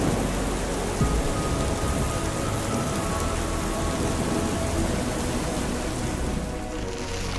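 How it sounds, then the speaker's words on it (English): Heavy early-season rain pours down steadily as a dense, continuous hiss of drops striking surfaces, loud and unbroken throughout. "Whenever the heavy early season rains pour down"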